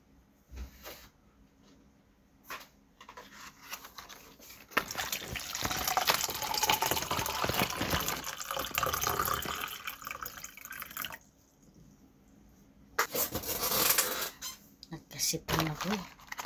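Water splashes and runs in two sustained bursts, like liquid being poured, with quieter gaps and small clinks around them.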